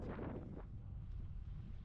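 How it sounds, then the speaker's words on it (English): Steady wind buffeting a microphone during a gravel bike ride, a low rumbling roar that holds constant throughout with no other clear sounds. "Well, it's pretty windy today"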